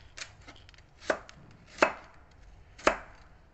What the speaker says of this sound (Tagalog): Hiwa lang ko ng carrots